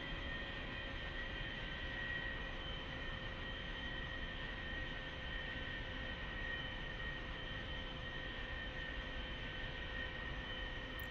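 An A-4E Skyhawk jet in DCS World, a flight-simulation game, holds a steady, unbroken engine roar with a whining tonal hum on the runway before takeoff, loud and constant throughout with no talk.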